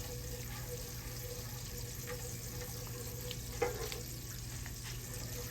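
Lemon juice goes into a pan of sizzling butter for trout meunière, giving a steady, close frying hiss with a short splash-like burst midway.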